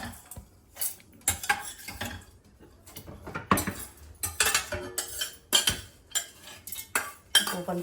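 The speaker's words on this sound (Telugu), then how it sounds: "ఇప్పుడు మిక్సీ జార్లో వేసేసుకుందామండి పోపుని" A spoon scrapes fried tempering spices from a pan into a mixer jar, giving a string of irregular metallic clinks and scrapes that come in quick bursts with short pauses between them.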